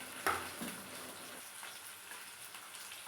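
Onions, green chilies and curry leaves frying in a pan, a faint, even crackle and sizzle with a soft tap at the start, steady and quiet throughout.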